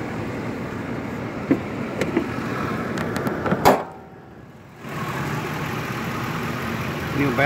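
A 2005 Ford E250 van's 5.4 liter engine idles steadily at close range under the open hood, a continuous low rumble broken by a brief clunk and a short drop-out near the middle.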